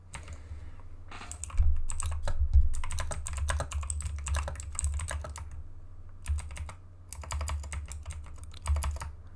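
Bursts of rapid, close keystrokes on a computer keyboard come in clusters separated by brief pauses, crisp and clattery, with no talking.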